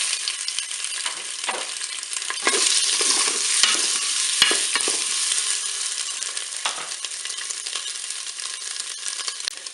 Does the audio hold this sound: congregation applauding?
no